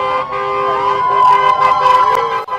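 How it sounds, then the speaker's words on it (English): Loud, overlapping car horns from passing motorists blare together in a tonal, wavering chorus outside a courthouse, close and continuous, with a brief dip near the end. "Passing motorists honk in support."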